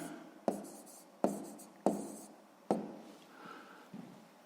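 Handwriting a math solution: several sharp taps of a pen against a writing surface, followed by scratchy strokes, close and fairly quiet, with no voices.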